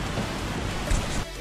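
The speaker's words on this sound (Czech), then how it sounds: "Začíná nám pršet" Rain starts falling at a mountain hut high in the Alps, a dense, steady hiss of drops on surfaces, close and fairly loud throughout the short stretch.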